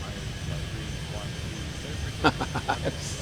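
Engine rumble of an aircraft taking off in a flight simulator game forms a low, steady drone throughout, with a voice breaking in briefly near the end.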